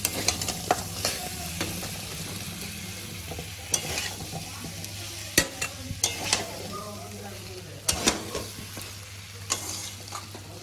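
Young green jackfruit is stir-fried with spices in a wok for a mutton-style curry, giving a steady close sizzle broken by frequent scraping and knocking strokes of the stirring spatula.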